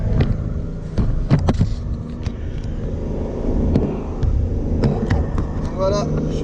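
A BMW E30 engine idles while warming up, a steady low rumble close by with sharp clicks and knocks scattered over it.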